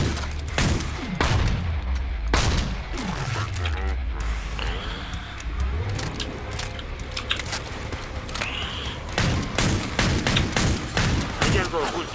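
Repeated gunshots and weapon bursts in the zombie shooter game Killing Floor 2, sharp loud cracks with mechanical reload clatter between them, under intermittent voices.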